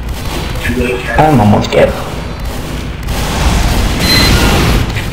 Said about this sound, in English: That guy is shooting grenade.